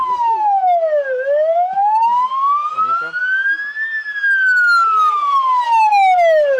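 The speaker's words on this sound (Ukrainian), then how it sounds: "одразу дві машини екстреної допомоги та ще й з сиренами." Two emergency vehicle sirens wail, sweeping slowly up and down in pitch, loud and steady, with faint traffic noise underneath.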